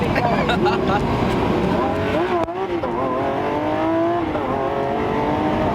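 A loud high-revving Lamborghini Aventador SVJ Roadster engine roars and shifts pitch, with rising and falling exhaust tones and a brief dip midway, people talking underneath.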